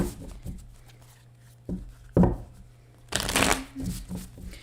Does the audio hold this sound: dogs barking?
no